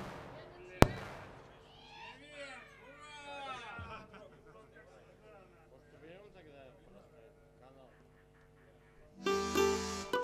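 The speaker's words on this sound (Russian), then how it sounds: "Какой-то фейерверк прям." Fireworks go off with one sharp crack near the start and a noisy crackling burst at the end, while several people talk and call out loudly throughout.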